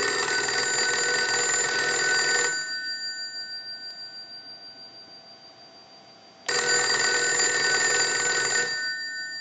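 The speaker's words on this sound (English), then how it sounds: "So we'll go ahead and ring the unit." A North Electric Galion TP-6-A military field telephone bell rings loudly in two long bursts of rapid metallic clanging, with a pause of a few seconds between them.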